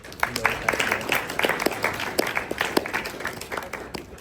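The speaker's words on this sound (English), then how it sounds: "I think we can give him a round of applause" Audience applause for Dr. Randolph at a civic symposium session, a moderate patter of individual claps with distinct sharp hits, fairly sparse and steady throughout.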